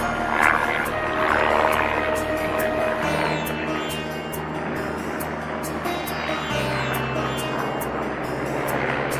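Helicopters shuttle to and from the Panchtarni helipad on the Amarnath trek route, a steady distant rotor drone with engine hum holding throughout, no voices over it.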